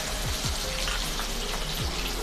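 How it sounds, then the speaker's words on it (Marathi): Sliced onion fries in hot oil left over from toasting cashews, a faint, even crackling hiss with a few soft bubbling pops, steady and without voices. "याच तेलामध्ये आता आपण कांदा तळून घेणार आहोत"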